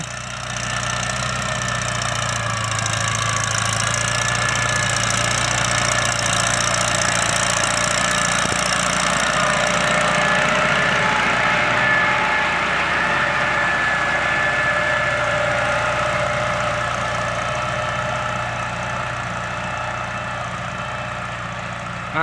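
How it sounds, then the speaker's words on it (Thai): Farm vehicle engine working in a rice field with straw, a steady loud drone that swells and holds at higher revs, then eases slightly toward the end, close and continuous with no talk. "ฟังเสียงเบิ้ลซะก่อนครับ"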